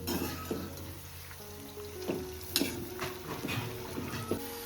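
Onions fry in a pan for a prawn dum biryani with a faint, steady sizzle, joined by short scraping stirs and a dog barking nearby now and then.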